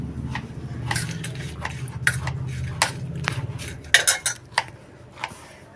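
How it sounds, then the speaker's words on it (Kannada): Food being mixed with a spoon in a bowl gives repeated light clinks and scrapes of metal on dishware, quickening into a cluster of sharper taps toward the end. "ಒಂದು ಚಮಚೆಯಿಂದ ನಾನು ಕಲಿಸ್ಬಿಡ್ತೇನೆ"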